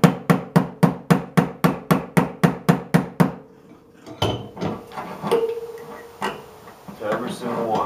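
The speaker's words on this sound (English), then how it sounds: "I'm just tightening my slide hammer down and pulling out a little," A slide hammer taps sharply and rhythmically on Ford F-150 pickup bodywork, a dozen evenly spaced metallic knocks, then stops as someone talks over scattered lighter clanks.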